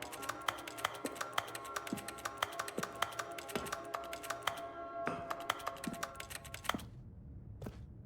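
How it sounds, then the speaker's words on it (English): A rapid, steady stream of sharp clicks like keyboard typing, crisp and close, from mouse clicks in the video game The Stanley Parable: Ultra Deluxe, with a couple of brief pauses near the end. "whenever I click, it just sounds like a keyboard typing?"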